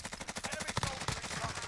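Rapid automatic gunfire in a Call of Duty match with a Bruen rifle, dense fast bursts of shots with a few heavier cracks, close and loud, with no talking.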